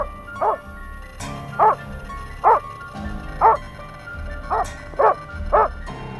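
A dog confronting a bear barks sharply about seven times at a steady, evenly spaced rhythm, loud and fairly close, with quiet rustling between barks.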